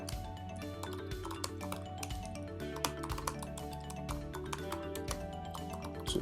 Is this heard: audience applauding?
no